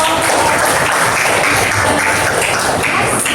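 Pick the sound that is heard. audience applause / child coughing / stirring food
audience applause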